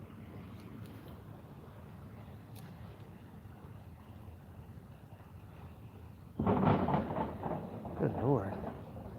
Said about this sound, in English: It's a biker on the bridge. It's so loud.